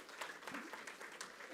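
Brief applause from an audience at a techathon event, steady clapping heard at a distance and fairly faint throughout.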